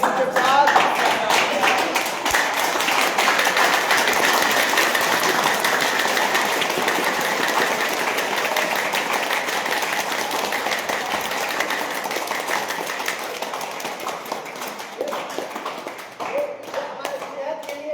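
Sustained audience applause at a children's school event, a dense, steady wash of many hands clapping together for a long stretch, fading slightly near the end.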